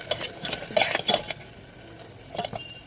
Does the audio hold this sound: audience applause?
no